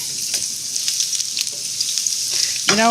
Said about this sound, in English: Let's fry the squash now.